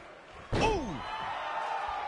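A single sharp slam rings out at an NXT wrestling event as an elbow smash lands in the ring. Loud and sudden, it is followed by a ringing, falling tone over a steady crowd roar.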